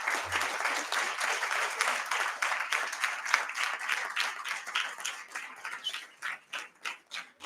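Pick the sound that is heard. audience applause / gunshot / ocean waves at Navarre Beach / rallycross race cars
audience applause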